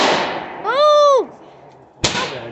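A fireworks finale: a loud whistling shell climbs for about half a second, followed by a sharp, close explosive bang and a trailing crackle.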